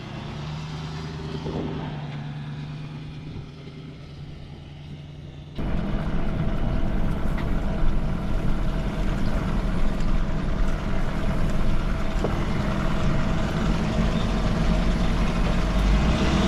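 Ford F550 truck with a failed CP4 injection pump being towed along a road, a steady broadband road and engine roar that grows louder after a few seconds and continues without talk.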